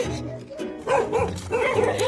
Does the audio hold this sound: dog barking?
yes